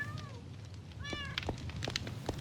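A cat meowing in Minecraft, a few short plaintive meows in quick succession, fairly faint over soft background noise with light tapping.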